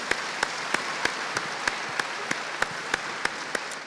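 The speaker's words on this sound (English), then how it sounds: "Give them all a big round of applause." Audience applause for the judges at an equestrian festival: steady, evenly spaced claps ring out over a constant background hiss, moderately loud and with no voices.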